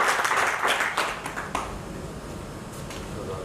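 Applause from an audience at a Hindi poetry gathering, a brief burst of clapping that fades within about a second and a half, leaving a quiet, reverberant room.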